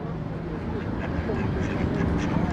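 Ducks quacking at a lake in Switzerland, repeated calls blending with steady outdoor ambience while someone talks over them throughout.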